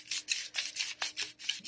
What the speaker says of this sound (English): doing this kind of motion with sandpaper, particularly when you're trying to sand something like this